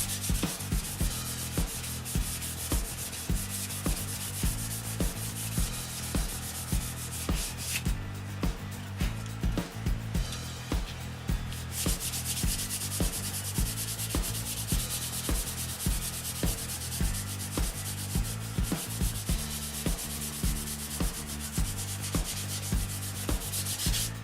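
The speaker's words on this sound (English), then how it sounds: "So in that short of time, we've sanded out all of those pieces." Wooden parts for a control line model airplane being hand-sanded: a continuous rhythmic rubbing and scratching of sandpaper on wood, close and steady, with a brief lighter pause partway through and no talking.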